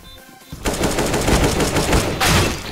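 Rapid bursts of gunfire in the video game Counter-Strike: Global Offensive, a short pause, then a steady stream of shots, ending in a loud final burst.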